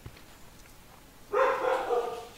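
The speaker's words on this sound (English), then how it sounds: "Oh, there goes my dogs." Dogs bark in a rapid, loud burst of several overlapping barks nearby, following a quiet stretch, with no talking over them.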